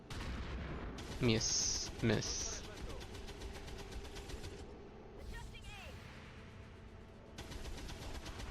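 Overwatch gunfire in the video game XCOM 2, two sharp bursts of shots about a second apart over game ambience, with a voice talking afterward.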